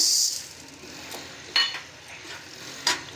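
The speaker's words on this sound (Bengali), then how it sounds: "এতে কিছু দিয়ে দিলাম ধনে আছে, আর কালো জিরে আছে, জুন, এগুলো দিয়ে একটু ভাজা করছি" Coriander seeds and nigella fry in a hot pan, a faint sizzle beneath occasional sharp metallic clinks of a spoon against the pan.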